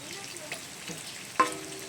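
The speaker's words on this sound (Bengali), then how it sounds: "আলুটা দিয়ে একটু মশলার সাথে বেশ সুন্দর করে নেড়ে চেড়ে মিশিয়ে নিচ্ছি।" Potatoes stirred and fried with spices in a pan, a steady soft sizzle with light scraping strokes and one sharper clink of the utensil near the end.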